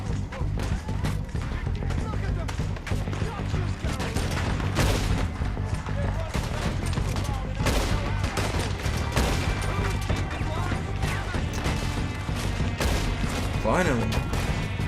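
Dense gunfire in Red Dead Redemption 2, a western shooter, crackling in continuous overlapping volleys with booming shots over a loud game soundtrack, while a player talks throughout.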